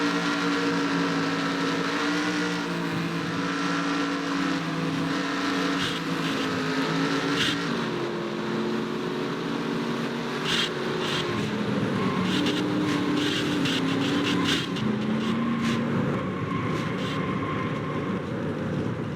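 Onboard race car audio from a Craftsman Cup Series car at Charlotte during a lengthy crash: a steady, loud engine drone with shifting pitch, scraping and clattering bursts breaking in over the sustained roar.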